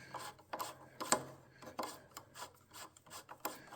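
A small idle control air bypass screw on a rebuilt air-cooled Porsche engine is turned in with a tool, making faint, close, gritty scraping and ticking strokes in an irregular rhythm.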